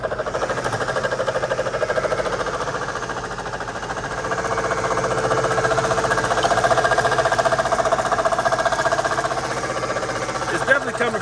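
A suspension pump runs on a Mercedes SL500, a steady mechanical whir with a rhythmic buzzing pulse that swells slightly midway, close and continuous with no talk.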